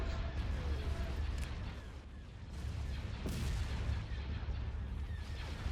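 A continuous roar of space battle from the strategy game Star Wars: Empire at War, dense and loud throughout, with laser cannon blasts, booms and rumbling bursts overlapping and no clear gaps.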